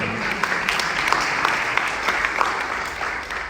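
Audience applause at a talk, a steady wash of dense clapping from many hands that holds evenly across the moment with no one speaking over it.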